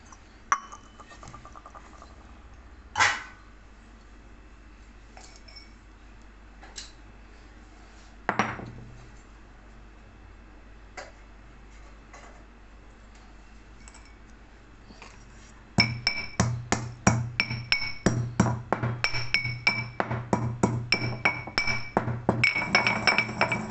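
Asafoetida is pounded for a mango pickle, with a few sparse metallic knocks at first, then a steady run of sharp, close, rhythmic clinking strikes.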